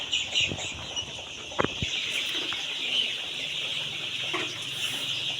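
A sick 16-day-old chick clucks faintly in short, scattered calls, with a brief sharper burst near the middle, over a quiet background hiss.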